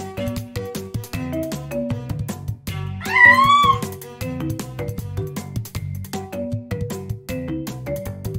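A cartoonish cat meows once in a short, rising-and-falling call from the game Super Granny 5, set over bouncy background game music with plinking notes.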